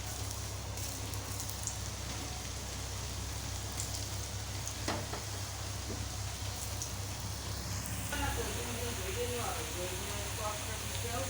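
Cut potatoes for french fries drop into hot oil and fry with a steady, rain-like hiss and soft crackle, while occasional handling clicks and a low hum sit underneath.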